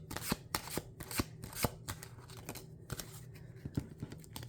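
Tarot cards being shuffled and handled alone: a steady run of crisp papery flicks and slaps with a few sharper snaps, quiet and close, with no voices.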